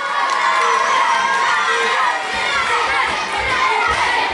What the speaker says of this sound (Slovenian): Da vas sad čujem kako ćete navijati za vašeg druga